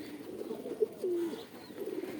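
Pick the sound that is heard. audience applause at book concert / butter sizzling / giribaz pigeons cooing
giribaz pigeons cooing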